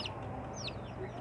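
A young chick clucks softly once or twice from a flock of farm-raised chicks, faint against a steady low background hum.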